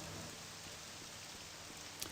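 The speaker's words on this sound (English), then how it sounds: "it's pissing down with rain" Steady rain pours down in the Morrowind video game, a dense even hiss at a camp with an unattended bonfire, constant throughout with one brief brighter tick near the end.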